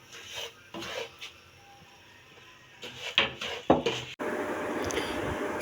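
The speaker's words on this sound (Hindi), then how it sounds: "अब हम इसमें सूजी डालेंगे और इसकी अच्छी तरह से भुनाई" Semolina roasts in desi ghee while a spoon stirs and scrapes the pan, with scattered clinks and knocks before a steady, close sizzling hiss takes over.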